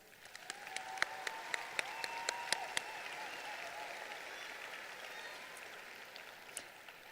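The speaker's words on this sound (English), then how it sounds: "I think that deserves a round of applause." High school graduation ceremony crowd giving a faint, distant round of applause in a large space, with a few sharper nearby claps early on before the clapping fades into a soft, sustained patter.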